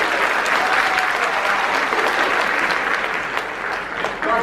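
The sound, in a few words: audience applause for journalist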